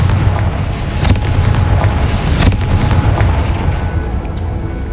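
Confringo blasting spell explosions in Hogwarts Legacy, heard as a dense run of booming blasts and sharp cracks over a heavy low rumble, loud and continuous throughout with no voices.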